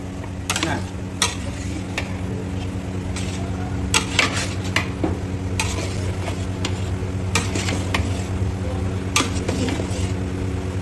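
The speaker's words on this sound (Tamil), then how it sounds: "அப்படியே நல்லா ஃபுல்லாக கறி படகிற மாதிரி நல்லா கிண்டி விட்ருங்க" Chicken masala for idiyappam chicken biryani is stirred in a pan, with a steady sizzle under repeated scraping and clinking strokes of the spoon against the metal throughout.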